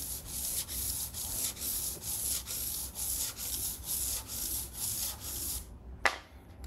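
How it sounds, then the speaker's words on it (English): A stick of charcoal rubbed over paper to lay down tone, a close, steady scratchy rubbing in even back-and-forth strokes, ending with a brief tap. "Take my stick of charcoal and apply the tone."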